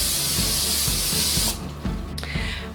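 A close, hissing burst of extra virgin olive oil spray runs for about a second and a half, followed by a few softer short spritzes over low background hum.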